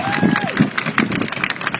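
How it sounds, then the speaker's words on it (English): A crowd at an army open house defence display applauds and cheers for a military band, with an announcer's amplified voice over the start of the clapping. "Central Band and our very own SBDS a warmest round of applause."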